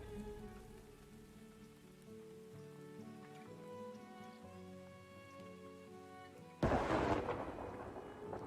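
Rain and a sudden thunder crack in the video game Farthest Frontier break in over sustained music tones, the downpour loud and hissing toward the end.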